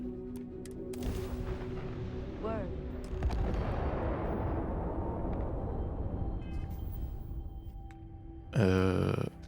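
Gunshots in the video game Starfield: a few loud blasts followed by a long rumbling, echoing tail, with tonal game sounds and a sudden loud burst near the end, and voices partly under it.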